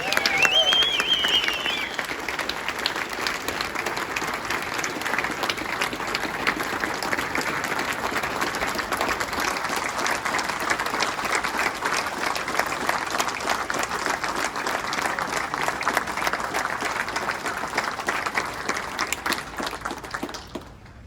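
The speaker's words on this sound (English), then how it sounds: "join me in a big round of applause" An audience applauds Fred Kodlin as he comes on stage, with dense, sustained clapping from a large crowd that holds steady for about twenty seconds and then fades out at the end.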